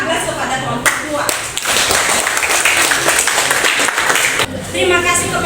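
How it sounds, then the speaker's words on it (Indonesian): A classroom group of teachers gives a round of applause for a presenting group, with dense, loud clapping that fades and then picks up again briefly near the end. "berikan aplaus kepada kelompok 2"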